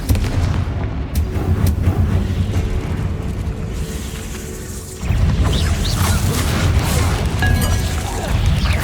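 A fiery Confringo spell bursts in Hogwarts Legacy with heavy, booming explosive blasts, followed by a sustained rumbling roar and crackle, loud and close, with no talking.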